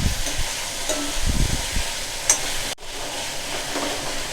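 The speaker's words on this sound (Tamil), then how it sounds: "கொஞ்சமாக கருவேப்பிலை போட்டுக்கிறேன்." Curry leaves drop into hot oil in a pan for poricha kuzhambu. A dense sizzle with crackling bursts is followed by a sudden brief drop and then a steadier, softer frying hiss.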